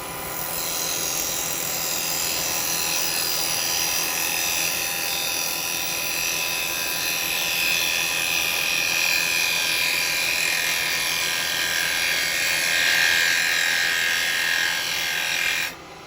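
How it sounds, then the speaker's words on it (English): A wood lathe turns a lidded box while a 14mm square carbide chisel shapes the foot, a steady, close, high scraping whine with a hum underneath that runs continuously and then cuts off at the end. "now I'm going to use my 14mm square carbide just to come in and put the foot on"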